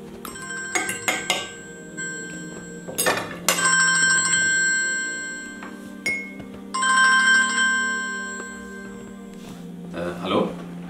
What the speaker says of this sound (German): klingelte plötzlich mein Handy am frühen Morgen.